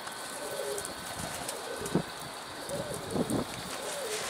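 A black-and-white-winged homing pigeon coos softly in a few low, rolling phrases, set against steady outdoor wind noise.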